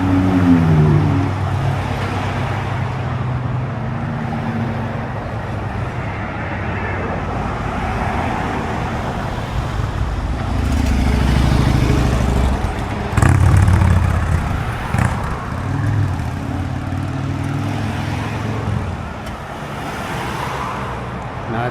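Cars run past on a road near Daytona Beach by a bridge, a continuous rolling traffic roar with a few louder passes swelling and fading, mid-distance and steady.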